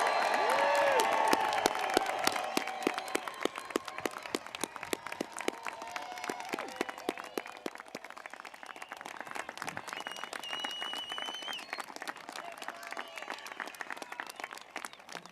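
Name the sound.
applause and cheering for the graduating class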